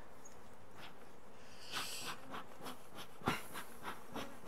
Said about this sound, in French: On secoue les abeilles dans la ruche